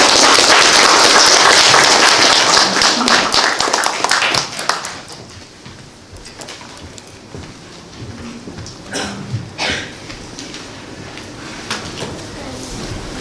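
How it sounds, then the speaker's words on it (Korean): An audience at a lecture on the March First Movement claps loudly to welcome the speaker, a dense burst of applause for about five seconds that then thins into scattered claps, shuffling and faint voices. "그럼 한시준 선생님을 박수로 맞아주시기 바랍니다."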